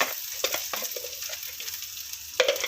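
Crushed spices, turmeric and mustard seeds sizzle in hot oil on a low flame, with close, steady frying hiss, small pops and a few louder crackles.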